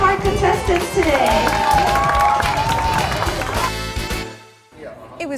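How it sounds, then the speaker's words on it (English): A crowd at a dog contest claps and cheers steadily for several seconds for the contestants, with voices mixed in, before the applause cuts off into near silence. "can we get some applause for all of our contestants today?"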